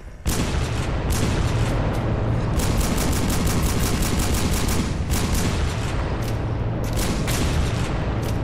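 Rapid bursts of gunfire crack continuously, loud and dense, with brief pauses between volleys in a VR zombie game firefight, a weapon firing ten shots at once.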